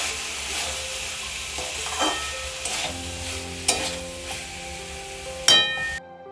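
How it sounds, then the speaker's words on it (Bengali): Urad dal (kalai) being stirred in hot oil in a pan, a soft continuous sizzle broken by a handful of sharp spoon scrapes and knocks against the metal, close and without talk. "এখানে আমি কলাইটা মিক্স করছি এটাকে ভালো করে নাড়াচাড়া করে দেবো"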